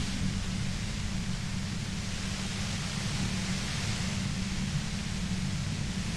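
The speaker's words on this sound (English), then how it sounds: "You hear through the white noise." Steady, even white noise in a detective video game hisses throughout at a low, constant level, with a heavier rumbling band underneath and no change in intensity.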